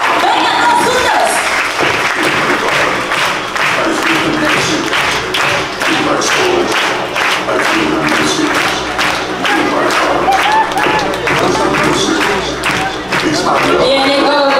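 An aquarium crowd at a sea lion show claps along in a loud, regular rhythmic beat, sustained throughout with music and voices mixed underneath.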